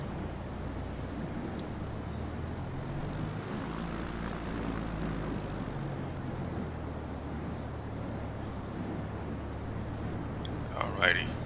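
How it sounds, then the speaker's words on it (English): Small propeller airplane engine powering up for takeoff on an Alaska bush trip, a steady loud droning roar with low harmonic hum that holds throughout, ending in a brief sharper burst near the end. "This plane is powerful."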